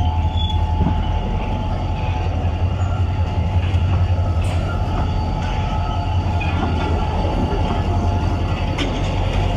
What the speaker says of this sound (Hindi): इस मालगाड़ी पर 2 लोकोमोटिव लगे हुए हैं।